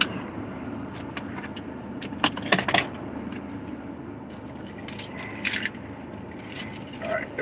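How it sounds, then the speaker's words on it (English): A bunch of keys jangles in short metallic bursts, several clinking rattles spread over a steady hum of a car interior, with a person talking quietly in between. "those are my keys"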